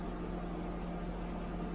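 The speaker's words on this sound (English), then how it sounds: "we are coming right along with microwaving everything" A microwave oven hums steadily while heating chicken nuggets, a close, constant drone with a low whirring tone and no speech.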